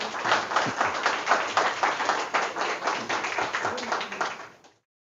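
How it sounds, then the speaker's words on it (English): An audience applauds a speaker at a lecture on the concept of techne, with steady rhythmic clapping at moderate volume that fades out near the end. "Please give him a round of applause."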